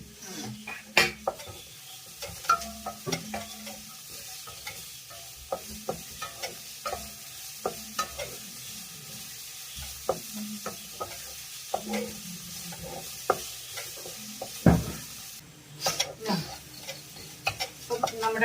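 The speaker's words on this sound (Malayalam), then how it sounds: "നമ്മുടെ വെജിറ്റബിൾസ് ഒക്കെ നന്നായിട്ടൊന്ന് വഴന്നു വന്നിട്ടുണ്ട്." Mixed vegetables, including carrot and green peas, sauté in a pan under a soft, quiet sizzle, while a spatula stirs and taps against the metal in irregular clicks and scrapes throughout.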